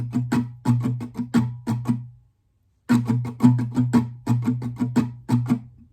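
Guitar pattern 2 for a song is strummed up close, two phrases of brisk, evenly accented strokes with a short gap between them, loud and unaccompanied by speech.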